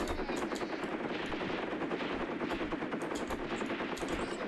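Machine gun fire in the Graviteam Tactics war game: continuous rapid bursts of automatic fire, loud and dense, rattling steadily for several seconds with no talking.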